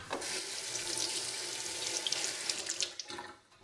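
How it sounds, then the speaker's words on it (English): Hands washed under a running kitchen tap while preparing fish curry, a steady broadband rush of water splashing into a sink, close and continuous, thinning out near the end. "Washing my hand a little bit."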